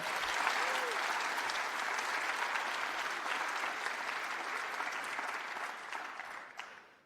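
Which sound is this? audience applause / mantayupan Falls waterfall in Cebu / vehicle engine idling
audience applause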